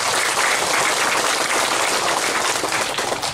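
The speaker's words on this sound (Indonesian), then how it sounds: "Mari kita berikan tepuk tangan untuk Pak Gubernur" Applause for the Governor from a crowd at a village ceremony for symbolic chili planting, a thick, continuous wash of clapping that holds steady and loud for the whole stretch.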